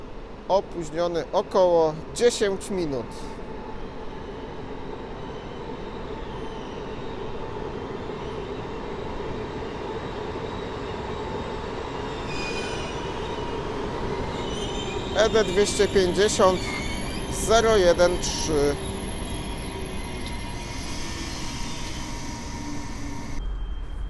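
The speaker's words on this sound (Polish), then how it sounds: "A na tor pierwszy przy peronie szóstym wjeżdża pociąg ekspres Intercity Premium z Gdyni Głównej do Gliwic." A PKP Intercity Premium express from Gdynia Główna to Gliwice pulls in on track one at platform six of Warszawa Zachodnia station. A steady rumble runs throughout, with high wheel squeals later on, and a public-address voice breaks in over it at times.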